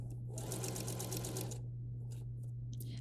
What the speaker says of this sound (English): And then you see the sewing machine and you think, oh, that's still slow.